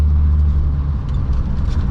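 A vintage 1968 Mercedes-Benz W108 drives along with a steady low engine hum and road rumble, heard from inside the car, fairly loud and even throughout.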